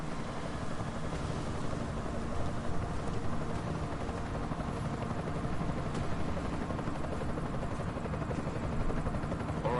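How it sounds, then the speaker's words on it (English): An enemy helicopter in Deus Ex: Mankind Divided whirs steadily throughout, a dense, constant rotor roar with no talk over it. "Enemy helo sighted."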